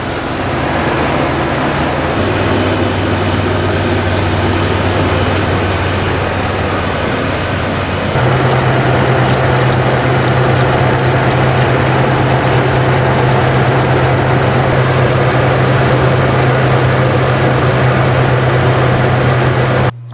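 Toyota 4Runner engine idling nearby while warming up after a cooling system flush, a loud steady low hum whose pitch steps up partway through as the idle rises, continuing evenly to the end.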